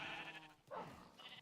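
Minecraft sheep bleating in a blocky farm pen, several overlapping wavering bleats close by, one fading and another rising, with no talk over them.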